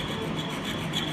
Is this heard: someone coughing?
no